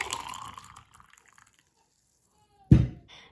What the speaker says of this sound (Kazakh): Ең алдымен қайнаған суымызды стаканымызға құйып аламыз.